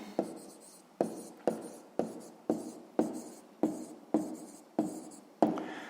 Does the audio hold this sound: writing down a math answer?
yes